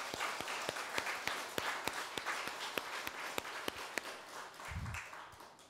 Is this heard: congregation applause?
yes